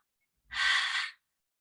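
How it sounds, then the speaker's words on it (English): A single long exhale pushed out through the mouth during a yoga breathing exercise, one steady breathy rush lasting under a second, close and alone with no talk. "and then exhale out through the mouth"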